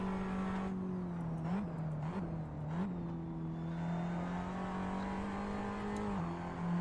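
A Tatuus race car in a sim racing game at the Nurburgring, its engine droning at a steady pitch with a few quick dips and blips around gear changes, close and continuous throughout with no voices.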